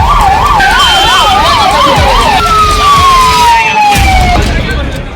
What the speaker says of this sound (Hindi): और फायर ब्रिगेड्स के सायरन से गूंजता इलाका।